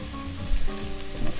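Lamb sauce for pici frying in a pan, giving a steady close sizzle and crackle with a few soft stirring bumps throughout.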